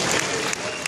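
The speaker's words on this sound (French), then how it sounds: "Vous pouvez applaudir, bien sûr." An audience applauds at an indoor motorcycle trial event, a dense, steady burst of clapping that fills the hall loudly for under a second.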